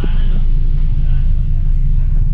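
A Toyota Vios race car in sport mode on a racetrack gives a loud, steady low engine rumble throughout, with a person talking over it.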